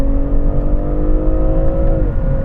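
BMW M340i accelerating hard at the start of a drag race, a loud, steady engine roar that holds its pitch, then dips as it shifts near the end.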